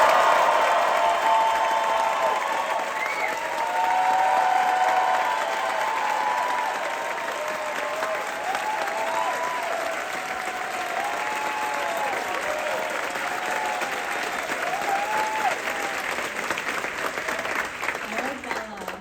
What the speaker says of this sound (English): I would love for her to hear an entire theater applaud her.